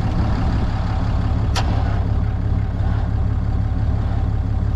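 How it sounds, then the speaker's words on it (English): A Ford engine cranks steadily without catching, the starter turning too slowly to fire it; a low, even churning runs close and loud throughout, broken once by a brief sharp click. "We're not getting enough RPMs to start it."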